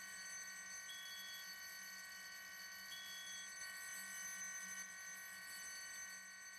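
A steady, loud fire alarm tone in a roleplay video game rings continuously with no pauses, a harsh high-pitched electronic drone filling the space.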